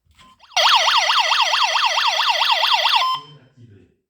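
A home carbon monoxide detector mounted beside a boiler sounds a loud, close, rapidly warbling electronic siren for about two and a half seconds, then cuts off, leaving faint low sounds.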